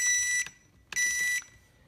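Two steady high-pitched electronic beeps from a quadcopter transmitter binding, each about half a second long, separated by a short pause in a quiet room.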